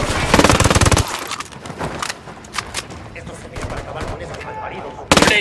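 Bursts of automatic gunfire in the combat game Ghost Recon Wildlands, dense rapid shots loud at the start and again at the end, with scattered single shots and battle noise between, voices speaking amid the shooting.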